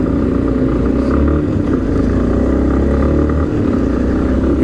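A Yamaha Tenere 250 motorcycle engine drones steadily and loudly while riding in city traffic, a continuous close-up rumble with wind noise and no talk.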